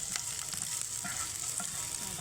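Chopped ginger, green chilli and garlic sizzle in hot oil with a dense, even hiss and small crackles, close and continuous.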